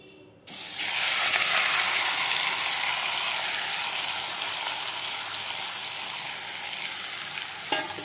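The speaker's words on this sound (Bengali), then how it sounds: "আর এই আমার তেলটা গরম হয়ে গেছে, এখন আমি এটা মাছটাকে এখানে আমি আস্তে করে ঢেলে দেবো।" Raw Bengali fish pieces slide into hot mustard oil with a sudden loud burst of sizzling that settles into a steady, bright frying hiss for several seconds, with a faint clink near the end.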